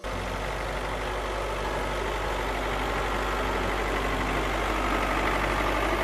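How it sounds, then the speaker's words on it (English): A motor grader's diesel engine runs at a steady idle, a dense continuous rumble heard close and alone throughout. "Grader."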